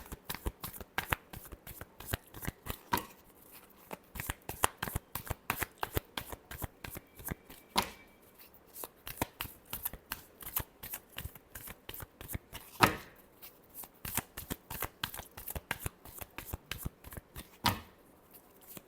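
Tarot cards are shuffled by hand in a steady, rapid flurry of close, crisp flicks and riffles that lasts the whole stretch, with a few sharper taps now and then and no talking.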